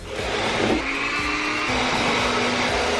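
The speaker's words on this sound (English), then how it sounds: "Now you take a hairdryer and you stick it right here on this thing." Steady, loud whooshing roar of a hair dryer blowing continuously, with a slight rise at the start and a faint hum beneath.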